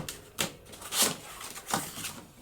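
A paper trimmer slicing cardstock for a journaling booklet, with a few soft, quiet scraping and clicking strokes spaced across the moment.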